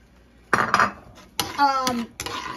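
Peas go into a cooking pot with a couple of metallic clinks and scrapes from a utensil against the pot. A few brief, faint voice-like bits can be heard between the clinks.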